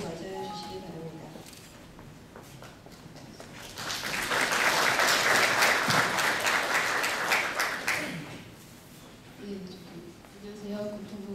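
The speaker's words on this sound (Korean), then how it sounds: "예빈 여러분께서는 박수로 맞이해 주시기 바랍니다." Audience applause at a 2014 architecture and urban policy forum greets a presenter, rising into a loud, dense burst of clapping for about four seconds before fading, with speech from the host and the speaker on either side.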